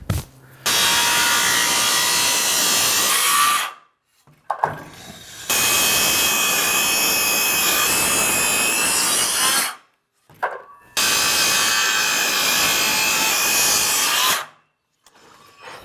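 A DeWalt brushed power saw rips through wood in three long, loud, continuous cuts of several seconds each, separated by short quiet pauses.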